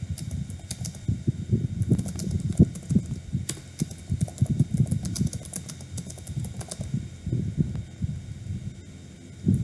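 Rapid computer keyboard typing with soft, irregular clicks and taps running steadily through the whole stretch, fairly close, with no talk over it.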